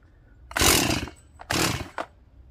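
A STIHL chainsaw fitted with a replacement Chinese engine, choke set, sputtering as it tries to start: two loud bursts of engine roar, each dying away, then a short pop, close and without speech.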